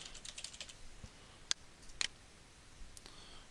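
Password keystrokes on a computer keyboard: a few scattered, faint clicks and taps in a quiet room, irregularly spaced with short pauses between them.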